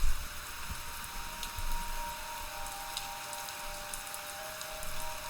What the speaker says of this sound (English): The rain is sharp, it's distracting you.